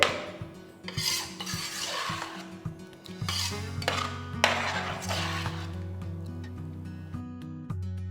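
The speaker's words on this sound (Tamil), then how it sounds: "இதெல்லாமே போட்டு நல்லா மிக்ஸ் பண்ணிவிடுங்க" Metal utensil scraping and clinking inside a pot as thick tamarind pongal is stirred, steady and close, with a low hum underneath and no talking.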